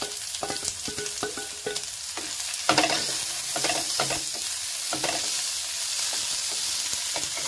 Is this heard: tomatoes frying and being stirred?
yes